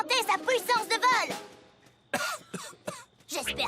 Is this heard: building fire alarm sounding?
no